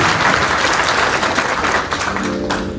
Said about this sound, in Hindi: जोरदार ताली होते हैं इस बात के लिए।